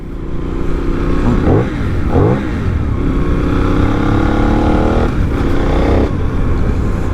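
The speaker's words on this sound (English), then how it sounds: "It's got a great exhaust note too." A premium Chinese-owned motorcycle with a twin-cylinder character runs close by, its exhaust giving a loud, throaty, steady drone with a few quick revs rising and falling.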